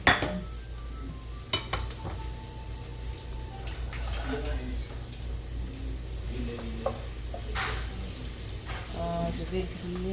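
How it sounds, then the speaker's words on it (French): Onions sizzle steadily in a pan while a spoon stirs and clinks against the metal, with occasional scrapes and taps over a continuous frying hiss. "Je vais griller les oignons peut-être pendant 3 à 4 minutes"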